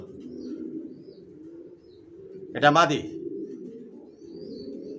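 Low coos of racing pigeons murmur steadily in the background while a person speaks briefly over them, close by and moderately quiet.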